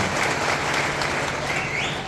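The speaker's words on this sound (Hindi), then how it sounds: "मैं तालियों की गड़गड़ाहट से उनको सैल्यूट करता हूँ" An audience at a political speech in Sendhwa breaks into dense, loud applause, an even wash of many hands clapping for about two seconds.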